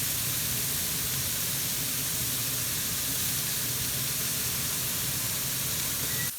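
Burgers frying in a pan, a steady loud broadband sizzle and hiss that holds unbroken throughout without any talk.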